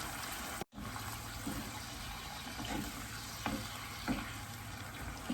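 Pork and broccoli stir-frying with soy sauce in a hot pan, a continuous loud sizzle with occasional spatula scrapes and stirs, briefly cut by a moment of silence near the start.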